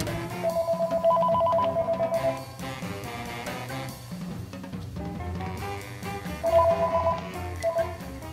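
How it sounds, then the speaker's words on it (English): A telephone is dialed and rings before a call: bursts of electronic ring tones sound over a busy background, fade into a lull, then come back as another group of rings near the end, with no voices. "I have to make a phone call."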